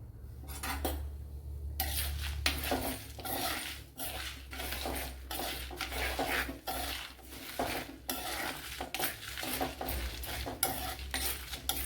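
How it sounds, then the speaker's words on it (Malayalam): Black pepper, dried red chilies and curry leaves being dry-roasted in a pan for Udupi temple-style sambar, with steady scraping and stirring of a utensil against the metal pan and faint crackling throughout. "കുറച്ച് കറി ലീവ്സും കൂടെ ചേർത്ത് കൊടുത്തൊന്ന് ഇതിനെ ഒന്ന് വറുത്തെടുക്കണം"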